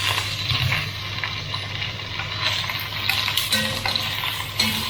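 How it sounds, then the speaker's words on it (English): Pigs in blankets sausages brown in a hot pan for a sausage casserole, giving a steady close sizzle with occasional clinks and scrapes as they are turned, and no talking. "Just turn them over, get them browned on all sides."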